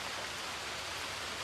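Dense, even rain falls steadily, a continuous soft hiss with no voices or other sounds.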